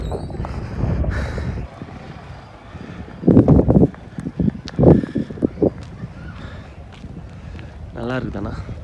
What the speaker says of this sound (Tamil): செம்ம காற்று, அதுவும் ஜில்லுன்னு அடிக்குது